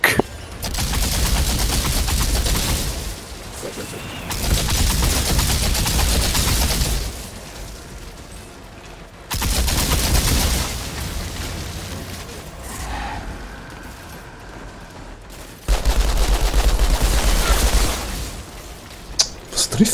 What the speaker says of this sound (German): Da irgendwann schießt auf mich, wo ich nicht weiß wo.